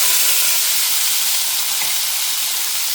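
Lentils fry in hot oil for a sambar tempering, making a loud, steady, close sizzle that runs unbroken throughout with no voices.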